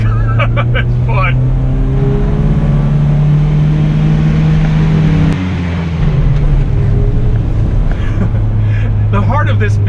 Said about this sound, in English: The heart of this beast is a 2-liter overhead cam 4-cylinder engine.